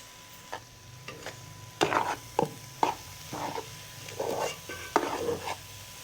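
Carrot halwa mixed with sugar is stirred in a pot, the spoon scraping and clinking in a steady series of close, distinct strokes over a soft sizzle.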